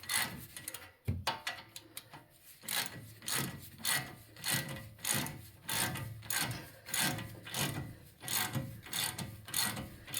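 A ratchet wrench with a 24mm socket tightens a bolt on a 2006 Toyota Tundra, making repeated rhythmic ratcheting strokes, each a quick raspy clicking burst, close and fairly quiet.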